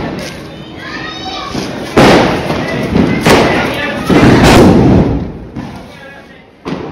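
Diwali firecrackers burst in a street, sharp loud bangs going off at irregular intervals, several close together, over a noisy outdoor background with people talking.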